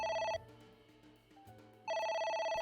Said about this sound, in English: It's Agent ringing Dante, again.